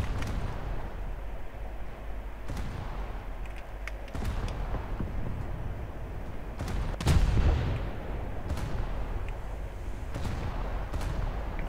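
Anti-aircraft gunfire in the War Thunder video game, a series of irregular booming and cracking shots, one heavier blast near the middle, over a rumbling battle background with no talking.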